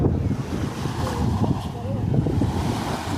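Ocean waves wash onto a beach near Melbourne's Port area in a steady, loud surf roar, with heavy wind buffeting the microphone throughout.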